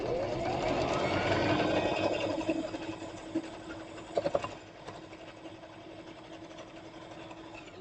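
A sewing machine stitching a seam on quilt squares for a nine-patch block, a steady close mechanical whir with rapid needle rhythm that slows and gives a few clacks before running quieter.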